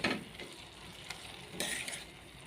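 A spoon stirs Telangana-style dry fish curry in a pan, with a soft sizzle under scraping swishes and a louder stirring burst near the end; no one speaks.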